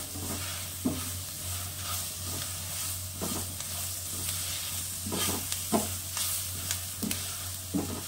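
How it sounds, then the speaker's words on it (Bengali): Eggplant fried with turmeric and salt crackles gently in a pan as a spatula stirs it, a quiet continuous sizzle punctuated by irregular scrapes and taps, with a low hum underneath. "একটু ভালো করে নেড়ে বেগুনটা আরেকটু ভাজা হবে।"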